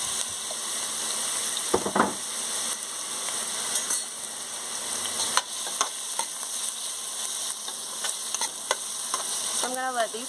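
Onions and poblano peppers cooking down in a pan in an off-grid outdoor kitchen in Mexico, a continuous close sizzle with intermittent stirring clatter and a few faint background noises, no speech.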